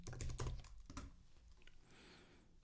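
Soft, fast keystrokes on a computer keyboard, a quiet run of taps entered into an AI chat playground, with a faint high tone toward the end and no talking.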